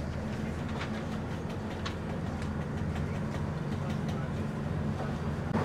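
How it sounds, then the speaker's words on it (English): Train between Tirgu Mures and Cluj, Romania, running on rails with a steady low rumble and faint clicks throughout, fairly close and continuous, with no talk over it. "So this is the train to Cluj."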